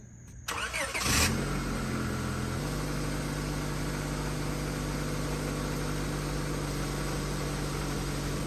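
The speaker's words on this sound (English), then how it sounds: "I'm gonna let it run for a few minutes to make sure everything burns off" A Honda Accord pulled from a junkyard and cleaned with engine degreaser cranks briefly, fires up and settles into a steady, even idle that runs on close by without talk.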